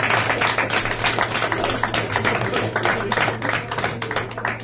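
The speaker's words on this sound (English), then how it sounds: "Ruben Martinho, give an extra round of applause there." Audience applause at a stand-up comedy show in Alberts Bar, Aarhus: a steady wash of dense, close clapping that holds for several seconds over a low constant hum in the room.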